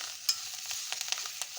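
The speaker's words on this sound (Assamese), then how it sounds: "নিমপাত ভাজিছোঁ কাৰণে আপোনালোকক দেখাইছোঁ দেই" Neem leaves fry in a pan with a soft sizzle, broken by repeated sharp scraping clicks of stirring at an irregular pace, close and alone without any talk.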